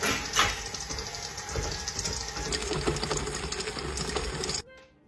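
An electric stand mixer with a paddle attachment churns gold cake batter, giving a steady mechanical whir with rattling, fairly loud and close, before cutting off abruptly near the end.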